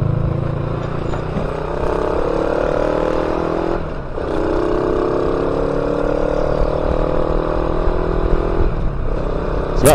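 A Modenas Espada LC 135 motorcycle engine, fitted with a racing coil and plug, runs steadily nearby, with a mid-pitched hum that rises and falls in a couple of gentle revs.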